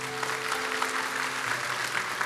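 A church congregation claps together during a sermon, a dense, even patter of many hands holding steady throughout, with a low hum underneath.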